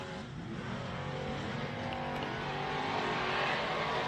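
Pro 2 short course race trucks launch together off the start line at Glen Helen Raceway, a loud, sustained roar of engines revving hard and building steadily, with faint tire noise and no talk.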